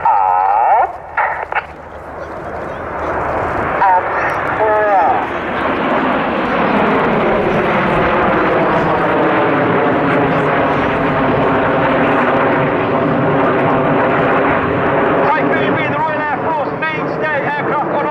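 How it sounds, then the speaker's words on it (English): An RAF Eurofighter Typhoon jet sweeps past at the Cosford Air Show, building into a loud, sustained roar that swells and shifts in pitch as it crosses, while an announcer talks over the public address at the start. "in celebration of 20 years of the Royal Air Force Typhoon display team, from the right, this is Typhoon!"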